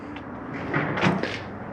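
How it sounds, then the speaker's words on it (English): A storage drawer on the outside of a 2021 Mesa Ridge 332RLS travel trailer slides and bumps shut, giving a few soft knocks and a rattle close by, with no talking. "Storage drawer."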